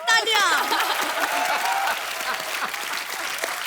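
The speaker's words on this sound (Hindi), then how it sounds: "बहुत बहुत तालियां" A studio audience at a comedy show applauds in a steady wash of clapping, with a voice rising briefly over the start.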